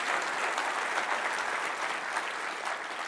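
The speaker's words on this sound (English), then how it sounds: "let's have a big round of applause for the demoers" Audience applause fills a conference keynote hall, steady and dense clapping from a large crowd lasting throughout without a break.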